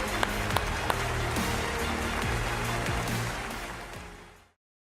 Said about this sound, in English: Please give a huge round of applause for Wayve.